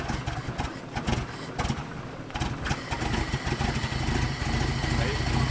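An off-road truck engine, running rough on only about three cylinders, revs and sputters unevenly and loudly, with people talking and shouting encouragement over it.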